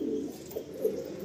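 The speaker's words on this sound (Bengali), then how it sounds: "এটা অনেক পুরনো পায়রা, তাই তো?" An old pigeon at a pigeon sale in Sonarpur, Kolkata, giving a soft, close, low coo in two short throaty pulses, alone without talk.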